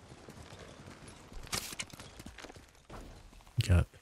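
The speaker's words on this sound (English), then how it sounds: "I'm in a new horse." Quiet video game horse hoofbeats clip-clop at a walking pace, with a few louder thuds near the end against a faint background.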